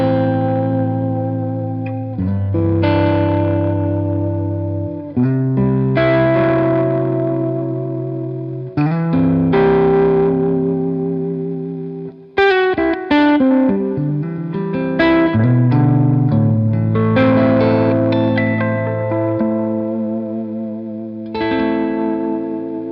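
Electric guitar with humbucker pickups through a Diamond Memory Lane 2 delay pedal, playing ringing chords and single notes with trailing echoes and a slightly driven, chorused tone, clear and close, alone without talk.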